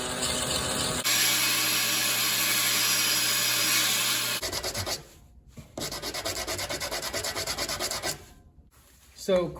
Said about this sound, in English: just a simple Scotch-Brite pad.